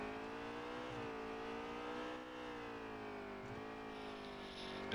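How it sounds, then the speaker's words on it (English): A race car engine in the video game NASCAR Heat 3 drones steadily at high revs, with brief dips in pitch around each gear shift, continuous and moderately loud with no talking. "And we can hear the leader shifting too."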